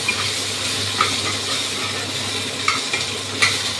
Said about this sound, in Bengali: এবার আদা টমেটো কাঁচা লঙ্কা দিয়ে একটু কষিয়ে নেব